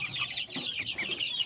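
A farm chicken weighing about 500 to 600 grams clucks in soft, repeated short calls at a modest distance, fairly quiet and heard alone without speech.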